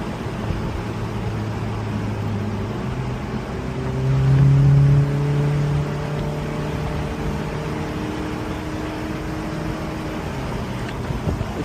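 A Ford Mustang on the road, its engine droning steadily with a rising, swelling rev in the middle before settling back to a steady cruise, heard from nearby.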